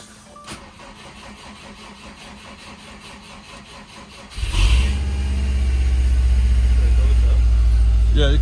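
Subaru STI started for the first time after a clutch replacement: a faint ticking for several seconds, then the engine cranks and catches with a loud burst before settling into a steady, close idle.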